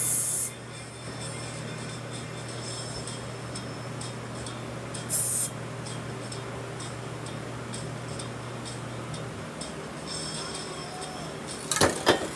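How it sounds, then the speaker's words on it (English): Two short hissing bursts from a can of purple Rust-Oleum spray paint, one at the start and one midway, over a steady low background hum. "I finally used up that terrible can of Rust-Oleum purple"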